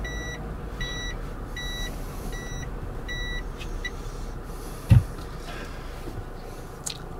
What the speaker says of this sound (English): so it beeps going into reverse.